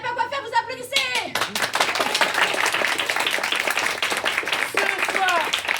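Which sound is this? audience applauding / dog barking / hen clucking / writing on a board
audience applauding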